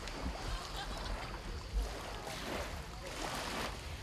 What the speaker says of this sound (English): Just hear the sound of sea.